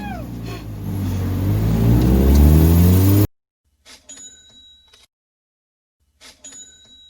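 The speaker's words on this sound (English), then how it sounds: "This, ladies and gentlemen, is my supercharged 1990 Mazda Miata" A supercharged 1990 Mazda Miata engine revs loud and close for about three seconds, a strong rising drone that cuts off abruptly, followed by quieter scattered sounds.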